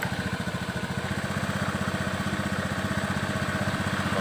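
A Honda Beat scooter engine idles at high RPM, a fast, even, pulsing putter held close and steady throughout with no talk.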